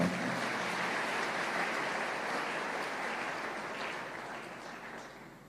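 Sustained applause from a church congregation during a sermon, a dense wash of clapping that holds steady and slowly fades toward the end, with no talk over it.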